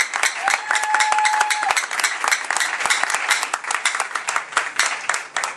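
A church congregation applauds together during worship, dense, continuous clapping that swells and fills the room, sustained loudly from start to finish.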